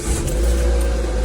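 A Renault Clio engine catches briefly and settles into a close, steady mid-pitched run for about a second.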